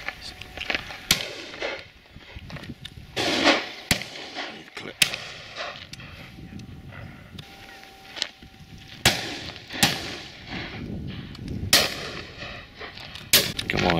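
Shotgun shots ring out at a pheasant and partridge shoot, a series of sharp, loud cracks spaced irregularly across an open outdoor setting, some close and some more distant.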